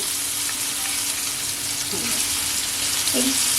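Thin sole fillets fry in hot oil in a pan, giving a steady, close, continuous sizzle with a few faint clinks of a utensil.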